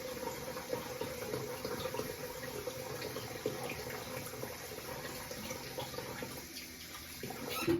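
Tap water runs steadily into a sink to wet a shaving brush, a soft continuous splashing hiss close by that stays even throughout.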